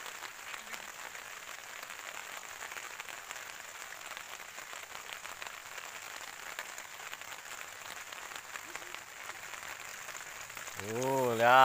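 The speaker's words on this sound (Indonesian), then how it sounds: "Biarpun hujan-hujan." Steady rain hisses down outdoors during freshwater fishing for belida featherback fish, a constant even wash of drops throughout, with a voice rising briefly at the very end.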